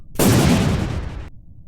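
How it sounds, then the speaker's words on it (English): A sudden loud rocket explosion in Kerbal Space Program erupts, then a roaring, crackling rumble sustains for about a second before cutting off abruptly. "lots of explosions"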